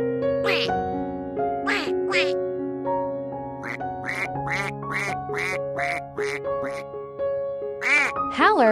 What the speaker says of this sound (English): Trumpeter swan.